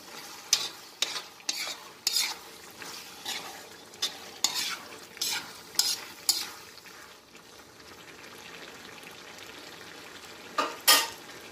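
Intermittent sharp scraping and stirring clatters over a soft background sizzle as potatoes fry in a pot, about a dozen strokes, then a quieter stretch and one last stir.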